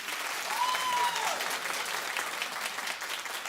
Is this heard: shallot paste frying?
no